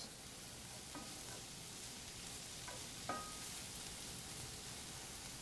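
Onions frying in a pan, a steady soft sizzle with a few brief scraping stir sounds, no voices.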